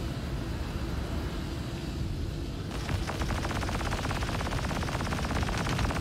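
Spaceship guns in Star Citizen open up partway through over a constant engine hum, a fast, even, rattling burst of automatic fire that keeps going, fairly loud against the droning background.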